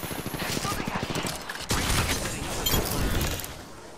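Rapid, continuous gunfire in a video game crackles as a steady stream of shots. A louder volley joins partway through, and the whole clip sits in a dense mix of battle noise.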